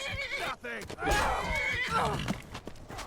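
A horse in Skyrim neighs loudly in a long, shrill whinny with hooves clopping around it, while someone speaks briefly beneath the sound.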